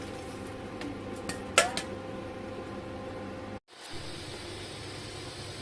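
Pork shank is placed into a pot for boiling, giving a few faint clinks and knocks of metal over a quiet, steady kitchen background, with a brief dropout partway through.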